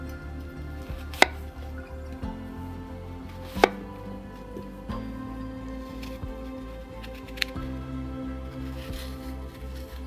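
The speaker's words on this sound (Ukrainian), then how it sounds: "Тепер розріжу їх на 4 частини" Knife cutting peeled apples into quarters on a board to remove the cores, with a couple of sharp, distinct chops standing out over a steady low kitchen hum and lighter cutting sounds.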